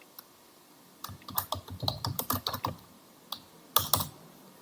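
Computer keyboard keys clicking during CAD work, a quick run of close, crisp presses followed by a pause and a couple of final firmer taps like an Enter key.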